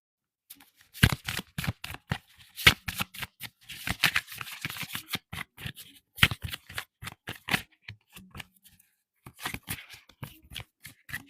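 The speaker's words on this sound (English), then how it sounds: "Get some of that audio. Shuffling." A tarot deck being shuffled repeatedly, crisp riffling bursts in quick succession with brief pauses between rounds, close and clear.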